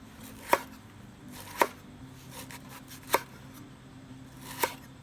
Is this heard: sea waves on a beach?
no